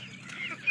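Brief honking quack from Muscovy and laying ducks on a farm, a short nasal call rising into a louder final note, close and isolated.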